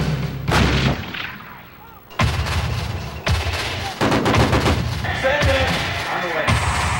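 An M1A1 Abrams tank fires its main gun at Fort Hunter Liggett in Central California, a series of loud, heavy booming blasts with rumbling decay following one another over several seconds.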